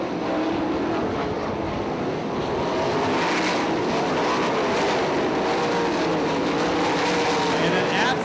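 410 sprint cars race around a dirt oval, a loud sustained roar of engines that swells and fades slightly as the pack passes, continuous over the whole stretch with a distant announcer's voice underneath.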